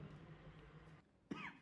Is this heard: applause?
no